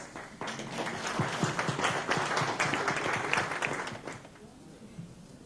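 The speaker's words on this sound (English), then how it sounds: "We should also give him a little applause." Audience applause at a shockwave therapy workshop, a steady patter of many hands clapping that swells for several seconds, with voices murmuring and talking underneath before it fades out.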